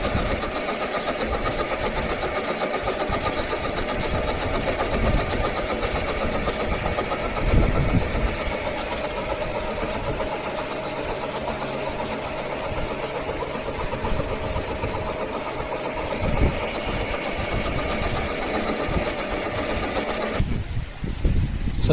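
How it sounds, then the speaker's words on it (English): Lathe cylindrical turning a workpiece from 20 mm down to 19 mm diameter in a machine shop, a steady continuous motor drone with grinding texture throughout. "the next operation what we are doing is cylindrical turning"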